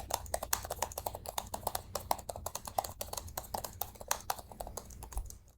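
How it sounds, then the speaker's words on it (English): Typing on the keyboard of an HP Omnibook X Flip laptop gives a fast, steady run of crisp key clicks close by, continuous for several seconds with nobody speaking. "listen to the sound of the keys."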